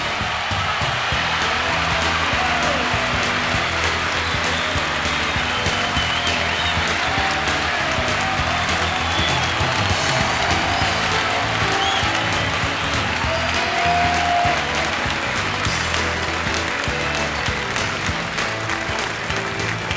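Sustained, dense applause from a large standing crowd at a bass fishing tournament championship in Mobile fills the whole stretch, steady and loud without pause.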